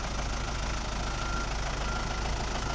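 A 2000 John Deere 5410 four-wheel-drive tractor, pre-emission, runs at a steady idle: an even, continuous diesel drone with light knocking texture, close and unbroken, with no one talking.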